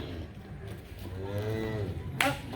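A black cow lows once at a cattle market while being loaded onto a vehicle, a drawn-out, low moan in the middle, with a short sharp click near the end.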